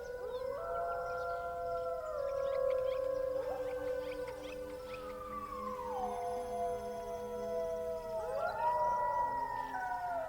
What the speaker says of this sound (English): What do you hear in the lonely howl of the wolf?